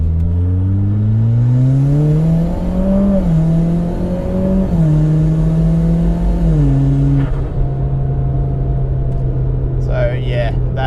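A Mitsubishi Evo X Ralliart with a rebuilt SST gearbox accelerates hard, its loud engine note climbing steeply and then dropping at each quick gear change, and settling into a steady drone near the end.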